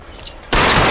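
A .45 pistol fires in the video game L.A. Noire, a single loud, sudden crack that jumps out of a quiet background halfway through and leaves a dense, sustained roar.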